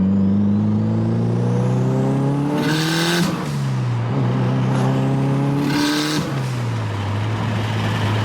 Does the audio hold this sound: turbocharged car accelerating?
yes